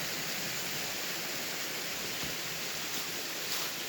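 Little Wolf Creek rushes along a wooded hiking trail, a continuous even hiss of flowing water with no pauses or other sounds standing out.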